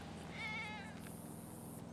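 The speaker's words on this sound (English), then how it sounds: "Look at the cat." A cat meows once inside the GTA 5 video game, a clear, close, drawn-out cry standing alone with no talk over it.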